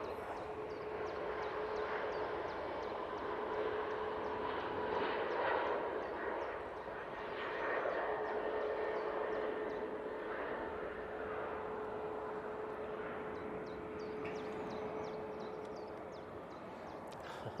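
A Ryanair airliner passes by at Manchester Airport, its broad engine roar sustained and fairly distant, rising and easing slightly over several seconds.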